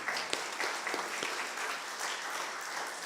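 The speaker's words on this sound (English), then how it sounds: "Can we give a round of applause for Robert, though?" A congregation at a Selichot gathering applauds, soft scattered clapping with a few sharper individual claps near the start, continuing evenly and somewhat distant, with no one speaking.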